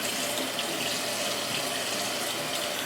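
Steady running tap water pours over a polymer FDE pistol dagger frame being washed in a sink, a continuous even splashing rush with no voices.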